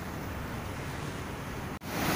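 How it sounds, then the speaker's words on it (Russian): Steady broadband roar of Indian Ocean surf and wind at Echo Beach, Bali, a black-sand beach, continuous and fairly close, with a brief dropout near the end before the wash resumes. "океан, Индийский океан"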